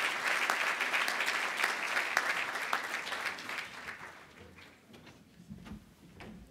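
Sustained applause from a breakfast crowd honoring the Virginia Legislative Black Caucus at a Dr. MLK Jr. community leaders event, dense and steady clapping that gradually thins and fades toward the end.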